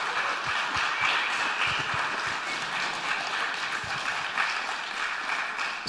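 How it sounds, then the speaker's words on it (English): An audience at a summit interview breaks into applause, a fairly quiet, steady patter of many hands heard from a distance, continuous throughout with a small bump near the end. "round of applause"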